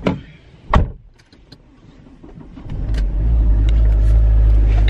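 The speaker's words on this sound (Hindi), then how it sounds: "गाड़ी स्टार्ट करते हैं" A car door thumps shut, then the engine starts and builds into a steady, loud rumble as the car pulls away, with no one talking.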